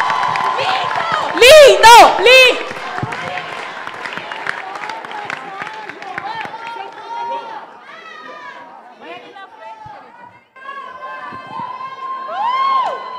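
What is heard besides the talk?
audience applause and cheering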